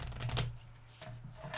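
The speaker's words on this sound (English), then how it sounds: "I've been shuffling for about 15 or 20 minutes." A deck of playing cards is shuffled close by in quiet surroundings, giving a quick riffling burst followed by a softer second riffle.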